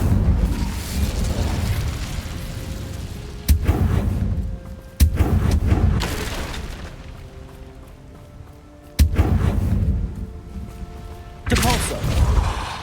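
The Incendio fire spell is cast repeatedly in the Hogwarts Legacy video game, with loud, sharp blasts at intervals, each followed by roaring, crackling fire and other game sound, with no speech.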